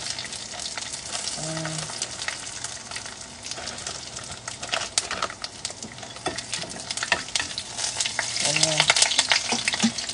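Dried fish (buwad) fries in a pan with a close, steady crackling sizzle and scattered spitting pops, growing louder toward the end, with a couple of faint short tones in the background.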